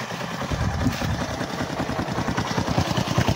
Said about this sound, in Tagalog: Uy, may dumaan ng motor.